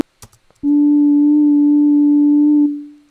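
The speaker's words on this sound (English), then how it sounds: "you can immediately hear also the wobble that the tape gives" A steady, loud sine wave tone, run through cassette tape, holds for about two seconds after a few soft clicks, then fades out; the pitch stays almost level with slight tape wobble.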